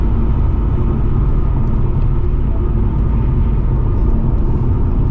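A Ford Mustang's Coyote V8 engine revs at high RPM, a loud, steady, dense roar that holds constant for the whole stretch with no pauses, heard close by from inside the car.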